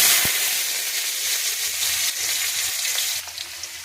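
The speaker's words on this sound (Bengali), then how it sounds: "এরপরে আমি কাটা আলুগুলোকে ভেজে নেব।" Cut potatoes sizzle loudly in hot oil seasoned with whole cumin and two dried red chillies, a dense continuous frying hiss close up with a small pop near the start.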